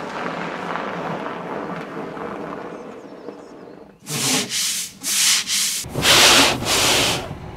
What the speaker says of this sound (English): Let's turn off this wiper.